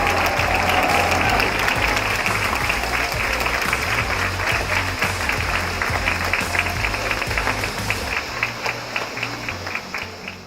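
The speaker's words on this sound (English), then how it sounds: "And I'll ask you to clap in 5, 4, 3, 2, 1" A large audience claps together in a sustained, dense burst of applause at a women's business trade event, holding steady for several seconds before thinning into scattered claps near the end.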